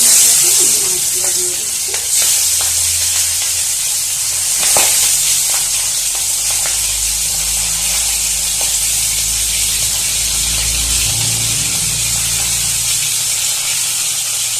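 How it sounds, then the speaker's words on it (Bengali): Magur and lata fish fry together in a little hot oil, giving a loud, continuous sizzle and hiss that holds steady from start to finish, close up with no talking. "একই সাথে আমি সমস্ত মাছই ভেজে নিচ্ছি"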